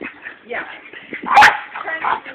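Young dog around six months old giving short yips and a whimpering bark amid casual backyard chatter, one louder yelp standing out midway while people keep talking around it.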